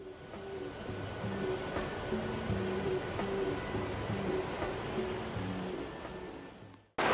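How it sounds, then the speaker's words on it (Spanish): A nearby river rushes with a loud, continuous broadband roar that holds steady for several seconds before cutting off abruptly at the end. "Aquí la contaminación auditiva es bastante alta por el ruido que genera este río que pasa en este lugar"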